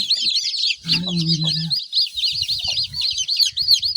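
Newly hatched chicks on a farm, cold and shivering beside their hen, peep shrilly and without pause; a brief low drawn-out call sounds midway, then soft low clucks mutter beneath the chirping.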